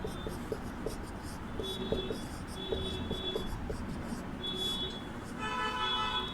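Marker or chalk squeaks and scratches across a classroom board as words are written during a Hindi lesson, a run of short strokes with faint traffic and horn sounds in the background.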